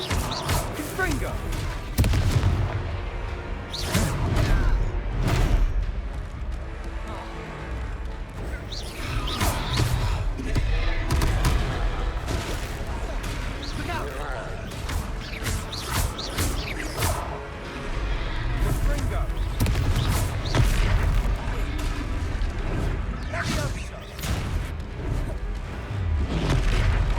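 Confringo fire-blast spells land repeatedly during a Hogwarts Legacy battle, producing deep booming impacts and crashes in irregular bursts over busy game sound, with a voice heard at points.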